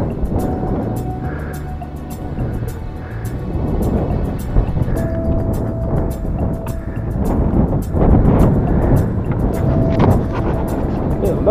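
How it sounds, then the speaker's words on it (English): Strong wind buffets the microphone outdoors on a bike ride, a steady, fluctuating roar that swells and drops, with faint passing traffic beneath it. "Good Lord, that's a lot of wind."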